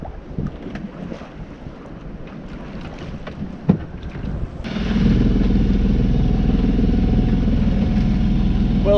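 A Contessa 26 sailboat motors along under its engine after leaving Baltimore, Ireland, and a steady, close droning hum starts abruptly partway through over earlier wind and water noise.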